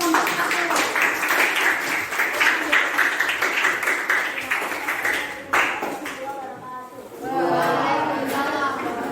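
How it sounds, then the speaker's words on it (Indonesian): A classroom gives a student group a round of dense clapping that runs for several seconds and then fades, with voices and chatter mixed through it and a person talking at the close. "Kita kasih aplaus untuk kelompok"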